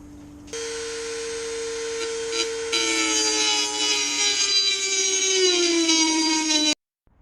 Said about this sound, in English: New cutoff wheel on there, and we're ready to go.